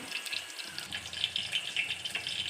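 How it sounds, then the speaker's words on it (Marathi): Water pours steadily into a pot of kadhi nearby, a soft continuous splashing stream with no talking. "हे बघा पाणी टाकलं"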